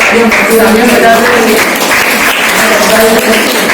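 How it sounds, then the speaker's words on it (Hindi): Loud, steady applause from an audience at an Urdu Academy literary and cultural event in Sedam, filling the whole stretch with dense clapping while a voice carries on over it. "जोरदार तालियों के साथ"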